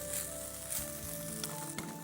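French beans and carrots sizzle steadily in a hot pan, a continuous crackling fry with small stirring knocks, close and fairly loud, no talking.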